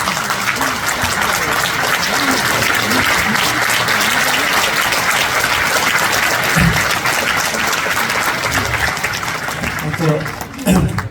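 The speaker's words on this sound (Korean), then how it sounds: "대단히 미안하지만 잠깐 일어서시고 박수로 환영해 주시면 감사하겠습니다." A seated audience standing to applaud an elderly guest at an inaugural ceremony, dense continuous clapping at full volume throughout, easing slightly near the end.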